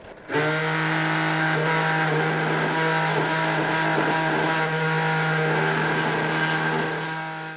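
A robot-assisted surgical saw or mill cuts through hard knee bone during a knee replacement, giving a steady, loud, high-pitched motorized whine with a strong tonal hum, running continuously for several seconds before easing off at the end.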